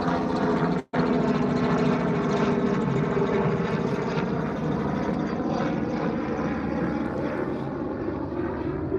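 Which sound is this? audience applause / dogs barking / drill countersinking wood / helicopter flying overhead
helicopter flying overhead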